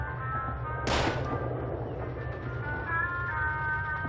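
A single sharp gunshot on a Call of Duty 3 shooting range cracks out loudly, then decays over a steady game music and ambience bed with no other shots following.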